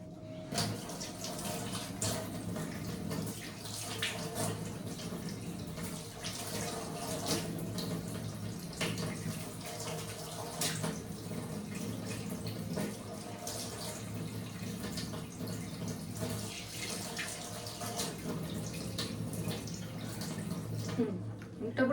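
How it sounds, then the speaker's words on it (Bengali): A tap runs steadily into a sink for a face-pack rinse, a continuous soft splashing at moderate distance with small splatters and drips throughout. "আমি এবার এটা ধুয়ে ফেলবো"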